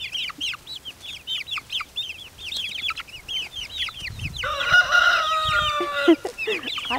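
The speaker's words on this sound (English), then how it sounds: "I'm being chased by little chickies." Small chicks chirp in quick, high, repeated peeps while following a person walking outdoors, a busy overlapping chorus with a louder burst of calls partway through.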